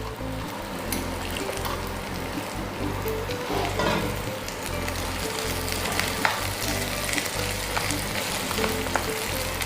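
Crab pieces sauté with ginger and garlic in a pan for a pepper gravy, a continuous close frying hiss with occasional stirring clatter and no talk.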